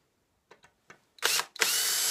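A power drill with a driver bit drives a screw into a wall: a few soft clicks and taps, then two loud whirring bursts of the motor, the second running steadily to the end, close up and with no talking.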